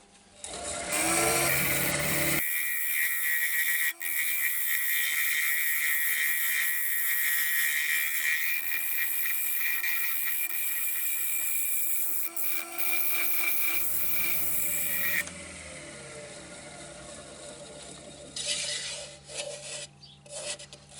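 A lathe tool scrapes and rasps against a spinning, warped wooden bowl in a steady, close grinding whine that changes pitch partway through and turns lighter and intermittent at the end.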